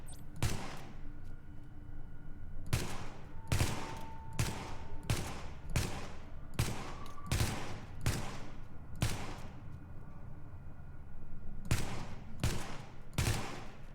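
SMG fire in the video game The Division: short automatic bursts crack out one after another at irregular intervals, sharp and broadband, with brief pauses between volleys and no talking.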